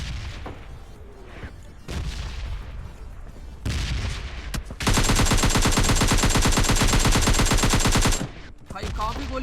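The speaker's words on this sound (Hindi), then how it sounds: "भाई काफी गोली मारा" Rapid gunfire in PUBG Lite, a long sustained burst of automatic shots, preceded by a few scattered shots and game noise.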